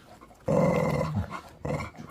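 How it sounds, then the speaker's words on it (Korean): A chow chow growls and then gives a couple of gruff, low barks indoors, close and fairly loud, in short bursts with brief pauses. "말을 해 말을 짖지만 말고 말을 해봐 꾸이"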